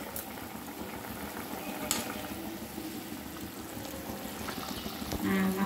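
Hilsa fish curry, made without mustard seed, simmers in a pan just uncovered, with a constant bubbling, sizzling boil throughout and a brief clink of metal partway through.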